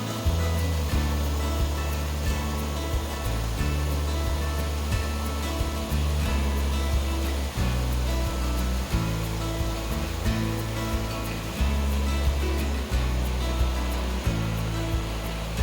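Heavy flowing water rushes steadily beneath a bridge close to a waterfall near Pune, a loud continuous roar with low churning surges and no voices.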